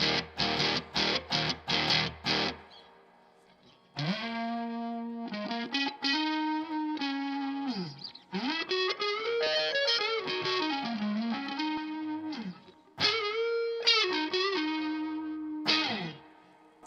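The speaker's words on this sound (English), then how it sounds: "it's a good medium overdrive" Overdriven electric guitar with a medium crunch: a burst of chugged chords, then sustained notes and bends ringing out, fairly loud with no voices.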